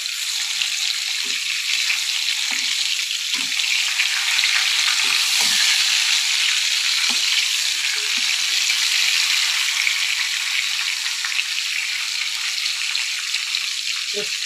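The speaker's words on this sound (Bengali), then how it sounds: "দেখো বেগুন ভাজাগুলো আমি এবার উল্টে দিচ্ছি।" Eggplant slices frying in a pan, a continuous bright sizzle that holds steady throughout, with scattered soft taps and knocks from turning the slices.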